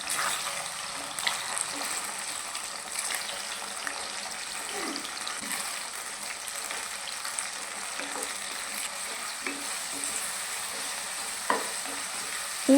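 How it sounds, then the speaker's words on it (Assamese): Jujubes frying on a low flame in a pan give a soft, steady sizzle throughout, with small stirring scrapes and a few sharper clicks. "2 মিনিটমান সময়ৰ কাৰণে কম জুইত বগৰীখিনি ভাজি ল'ম।"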